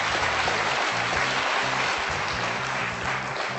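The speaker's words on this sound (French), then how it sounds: "Très applaudi par toute la salle." Studio audience at a French TV quiz show applauding steadily and loudly for the full stretch, with dense sustained clapping and faint voices and a low musical tone beneath.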